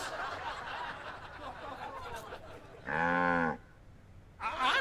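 A cartoon cow in the Sam and Max Save the World Remastered video game lets out a single loud, drawn-out moo after a stretch of background sound, with a short burst of another voice-like sound following.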